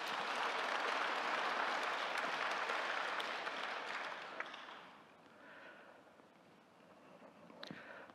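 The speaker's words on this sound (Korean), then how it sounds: "다시 한번 큰 박수를 부탁드립니다." Audience applause at a Daegu education awards ceremony and briefing, a dense, steady wash of clapping that fills the hall for about four seconds, then thins and fades to scattered claps and low room noise.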